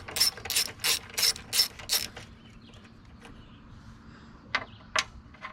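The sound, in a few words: ratchet removing an 8mm bolt from a Mustang Cobra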